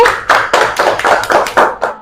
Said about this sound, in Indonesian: Tepuk tangan untuk Feli